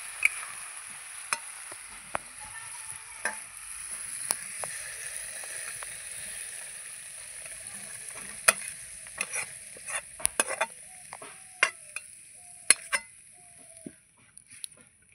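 Water lily stems (shapla) sizzle softly while being stirred and fried in a pan, a low steady crackle broken by sharp scraping taps of the utensil, quickening and clustering toward the end, with no voices.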